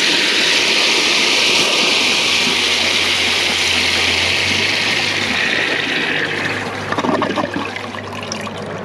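A 2008 Kohler Cimarron Class 5 high bucket tank toilet with a siphon jet flushes 50 feet of thick fabric. The water rushes loudly and steadily for about seven seconds, then turns to a gurgling, sputtering drain near the end.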